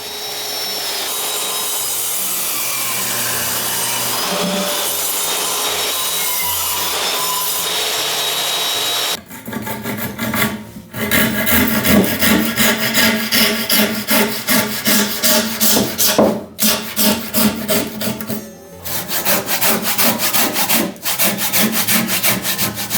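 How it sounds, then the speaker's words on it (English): Electric saw cutting tenons into wooden columns for a hand-built house extension, a steady buzzing drone for nine seconds, then loud, rough, pulsing bursts of blade biting through timber with brief pauses between cuts. "I'm starting by cutting the tenons for these columns. This machine's got power. It cuts straight through in one go"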